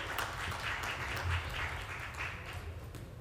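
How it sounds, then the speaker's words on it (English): A conference audience at a UK-India workshop's inaugural session gives continuous, fairly soft applause as speakers are welcomed on stage. "With a round of applause, let us welcome on the stage Ms. Reena Suri"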